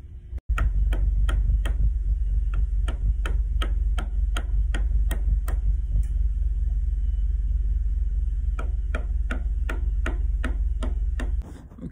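A chisel is struck repeatedly while cutting rotten wood out of a boat transom, a long series of sharp, evenly spaced knocks over a loud, steady low rumble, with a short pause midway.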